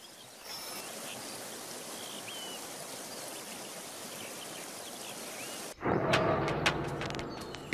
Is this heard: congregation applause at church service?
no